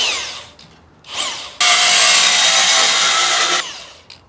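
A power tool cuts through stainless steel heads on a Holden Commodore VF2 SS, letting out a loud, steady, high-pitched grinding whine for about two seconds, with briefer spin-ups and spin-downs before and after.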